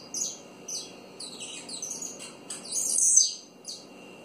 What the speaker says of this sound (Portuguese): Os passarinhos do meu esposo resolveram dar uma desgraça pra vocês, olha só que lindo.